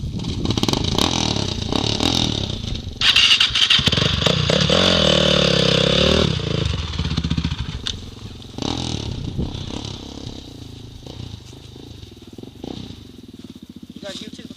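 A 400 dirt bike engine revs up loudly close by, its pitch rising and falling as it is shifted into first gear, with people talking over and around it.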